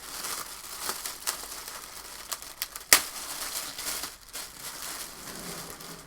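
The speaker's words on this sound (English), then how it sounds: "Sorry about the noise. It's all the plastic." Plastic packaging crinkles and rustles up close while a Flashforge Adventurer 5M 3D printer is unboxed, with scattered crackles, soft tearing and one sharp snap, no speech over it.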